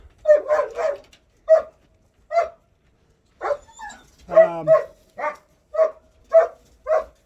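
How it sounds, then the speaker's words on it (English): A dog barks repeatedly nearby, loud sharp yelps in an uneven series with brief pauses, one bark trailing into a whine. "Apologize for the dog."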